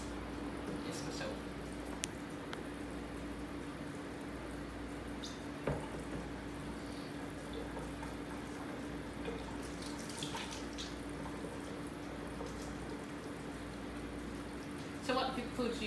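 Tap water runs steadily into a kitchen sink for handwashing, a continuous close splashing rush with a few small knocks and clatters.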